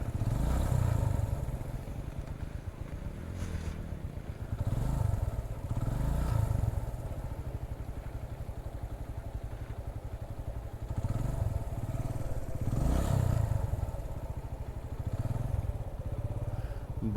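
A motorcycle engine running on a mountain road on a trip to Saif ul Malook lake, a steady low chugging idle with periodic revving swells and clatter, close and continuous, no talk.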